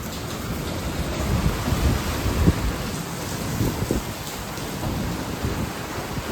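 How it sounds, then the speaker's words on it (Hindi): Heavy rain pours steadily with a dense hiss, while low thunder rumbles roll underneath in the distance; no voices. "बारिश बहुत तेज हो रही है"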